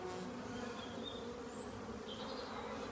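Honeybees buzzing around their hive, a faint, continuous droning hum with a few individual bees whining past nearby.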